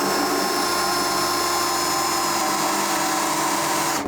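A power drill with a step bit whines steadily at high speed, drilling metal on a 1967 Barracuda, a continuous loud grinding hum with a tonal edge, running without pause throughout.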